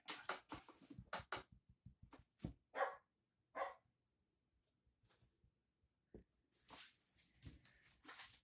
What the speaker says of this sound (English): You guys don't mind a little dog bark action in the background?